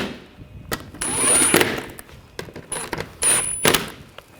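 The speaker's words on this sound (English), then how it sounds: "tighten those down" Bolts on a 2000-2006 BMW X5 3.0L inline-six are tightened near the fan shroud, giving a few short metallic ratcheting and clicking bursts with quiet gaps between them.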